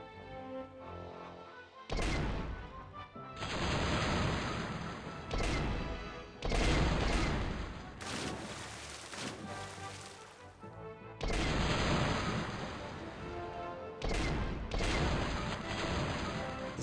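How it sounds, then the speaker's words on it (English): Cannon fire in the video game The Curse of Monkey Island, a run of loud booming blasts with crashing, hissing tails, several shots coming one after another in quick succession with no voices. "The sound effect on these cannons."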